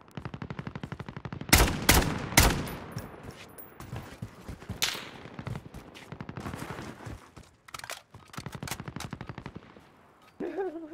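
A low-recoil automatic rifle build fires in Call of Duty: Warzone, loud, crisp bursts with short pauses between strings of rapid shots, continuing over several seconds.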